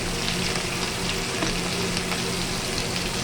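Ground spices of turmeric, chilli powder, coriander powder and salt sizzle steadily in a hot pan after a splash of water is added, a dense continuous frying hiss with no talk.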